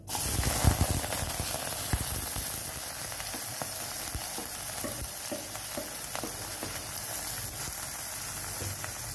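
Onions, green chillies and curry leaves sizzle steadily in hot oil for tomato sambar, with repeated scraping and stirring clicks from a utensil against the pan.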